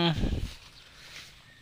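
A single sheep bleats close by on a pasture, one short loud call at the start that fades into quiet outdoor ambience.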